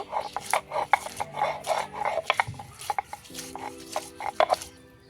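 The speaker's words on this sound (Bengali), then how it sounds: "এখানে কিছু পেঁয়াজ বেটে নিব।" Onions are ground into paste on a traditional grinding stone in a village kitchen, giving rhythmic, close rubbing and scraping strokes of stone on stone that repeat steadily, with a faint tonal hum partway through.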